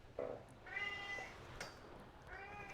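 A pet cat meows several times nearby indoors, a short chirp, then a longer drawn-out meow, a sharp noise, and another meow toward the end, with no speech.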